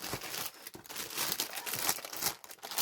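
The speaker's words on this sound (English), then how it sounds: "So forgive the crinkling and I'll open her up." Plastic packaging crinkles and rustles up close during an unboxing, a busy irregular crackling with soft tearing moments and no talk.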